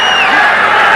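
A boxing crowd at a Marvin Hagler versus Tony Sibson middleweight title fight cheers loudly and steadily as both men come out for round six. The roar is continuous and close, with shouts and whoops mixed in.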